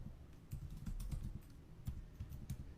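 Keys on a computer keyboard are typed in quick, irregular bursts while a website address is entered. The soft clicks and taps are close but quiet, with no speech.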